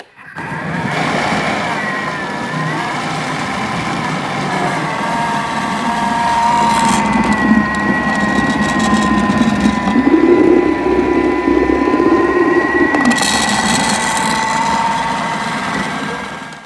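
Thermomix bowl with its measuring cup fitted spins at top speed 10 for twenty seconds blending waffle batter of cheese and potatoes, a loud steady motor whine with a churning rumble that rises and falls slightly.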